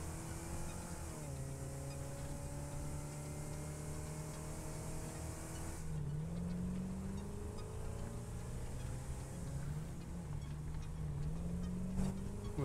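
Vehicle engine in Satisfactory, a steady droning motor with shifting pitch as it drives, moderately loud and continuous, with a brief rev change midway.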